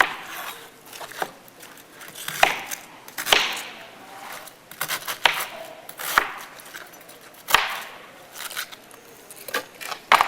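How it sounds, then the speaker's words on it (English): Rough chopping of cabbage with a knife on a board for homemade sauerkraut, sharp irregular cuts and thuds spaced a second or so apart with crunchy rustling between, close and moderately loud. "So I find that if I just cut it in pieces, rough chop it like that"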